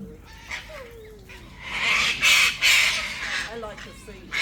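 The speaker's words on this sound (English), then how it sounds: "Magpies are still waiting for some." Magpies give harsh chattering squawks and caws while being fed, rising to a loud burst of calls midway, with people talking nearby.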